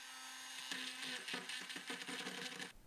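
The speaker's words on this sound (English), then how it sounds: "I then used a rotary tool to smoothen out the holes." A rotary tool smoothing out drilled holes in a workpiece, a close, bright whirring grind with several rapid rough pulses as the bit bites in, ending abruptly.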